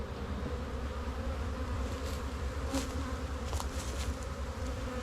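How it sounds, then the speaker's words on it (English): Dense, continuous hum of many honeybees from an opened hive as frames are worked, loud and close with no talking. "I'm going to shake these bees down."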